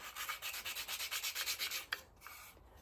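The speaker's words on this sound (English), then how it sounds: "I have got that proper sandpaper, haven't I? That I should use." Sandpaper rubbing a painted miniature piece of dollhouse furniture, about a dozen quick, even back-and-forth rasps, close and clear, ending with a small knock.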